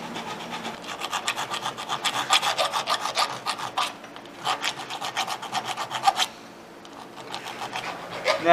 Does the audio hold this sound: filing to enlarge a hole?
yes